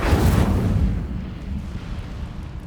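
An Incendio fire spell cast in Hogwarts Legacy gameplay: a loud, low whooshing burst of flame that roars at the start and then rumbles away into a dull lingering tail.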